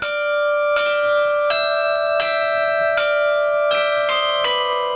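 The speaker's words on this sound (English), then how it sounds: "When we play the bells," Handbells ring a slow melody of separate clear, sustained tones, each struck note sounding at an even pace and overlapping the last, played for a season of nonviolence with no voices.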